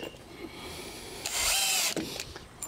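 A power drill drives screws into a wooden bench, a brief high whine that rises and holds for about half a second before stopping, close and clear, with no talk.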